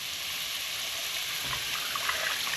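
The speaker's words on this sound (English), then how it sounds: "I'm going to now also add the stock into here." 500 ml of stock poured into a pot for lamb shanks in red wine gravy, a short continuous splashing gush of liquid heard close and fairly steady, with no talking.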